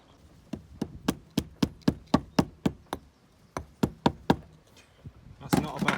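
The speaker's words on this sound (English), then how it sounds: "Just give it a knock in with the hammer." A hammer knocks a fascia board into place during roof-edge renovation, a rapid run of about a dozen sharp, close knocks, a short pause, then five more, ending in rustling.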